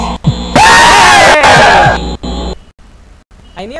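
A loud, sustained scream rings out in a haunted house video game, rising and wavering for about two seconds with another voice joining, followed by quieter game ambience and a short vocal squeal at the end.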